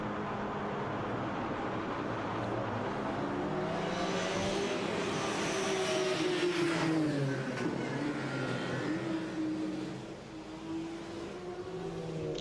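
A WTCC touring race car at Macau in 2006 accelerates out of Fisherman's Bend into the pit entry road, its engine revving loudly with rising and falling pitch, then easing off and fading near the end.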